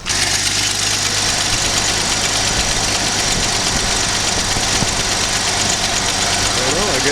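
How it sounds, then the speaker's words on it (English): A 1999 Jeep Cherokee XJ engine runs at a steady idle, a constant loud mechanical drone with a faint knocking texture that holds for the whole stretch, with no voices over it. "I think I'm going to turn the engine on just to see if anything weird's going on."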